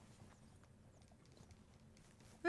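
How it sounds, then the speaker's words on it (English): Horse hooves clip-clop in the Red Dead Redemption 2 video game, a faint, soft patter of steps under low background noise. "Hey, it's a temporary horse."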